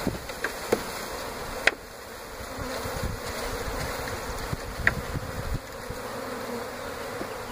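Dense buzzing of many honeybees close by as a package is shaken into a horizontal hive, a continuous hum with occasional sharp knocks and thumps, no voices.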